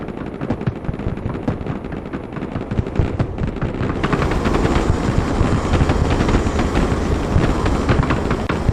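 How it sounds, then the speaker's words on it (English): A military helicopter in the Broken Arrow war game flies with a dense, continuous rotor and engine roar that swells louder partway through, layered with sharp staccato bursts like distant gunfire throughout. "Helicopter is in the air."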